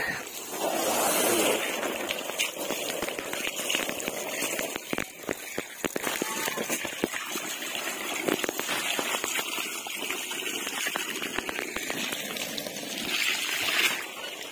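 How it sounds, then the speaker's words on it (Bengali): Water is poured out nearby for pets to bathe in and drink, making a steady rushing splash that runs unbroken for the whole stretch, with no voices over it. "জল পড়তেছে, এই যে খাচ্ছে সবগুলা"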